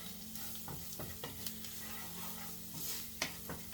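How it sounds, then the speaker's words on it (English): Coconut curry chicken sizzles in a hot pan while a spoon stirs and scrapes through it, repeated clinks and scrapes over a steady frying hiss, close and fairly quiet, no talking. "and you mix it all."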